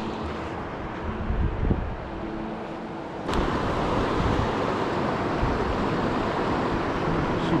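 Strong wind buffets the microphone outdoors by a river, a steady roaring rush that jumps louder halfway through and stays constant, with no voices.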